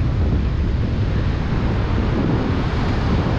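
Strong wind buffeting the microphone on a beach in Bahia, a continuous loud roar with surf-like rush throughout, no voices.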